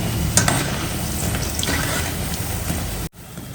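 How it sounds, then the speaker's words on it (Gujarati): Chapdi dough balls deep-frying in hot oil, a steady close sizzle with faint stirring clicks, cut off abruptly near the end. "આ રીતે છે ને ગોટા ચલાવતા જાય અને તળી લેવાના છે"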